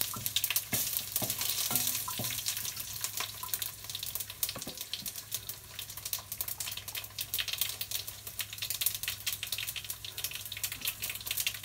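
Garlic, mustard seeds, fennel, cumin and fenugreek fry in hot oil, a close, continuous crackling sizzle with scattered pops and the scrape of stirring, no voices.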